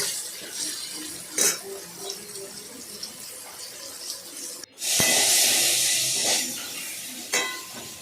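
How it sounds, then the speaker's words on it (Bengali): Bitter gourd pieces fry with turmeric in a pan of oil, giving a steady hiss with brief scraping stirs, then a louder, fuller sizzle partway through. "অল্প পরিমাণে হলুদ দিলাম তারপর সেটাকে ভালো করে নাড়াচাড়া করলাম নাড়াচাড়া করে ভাজলাম"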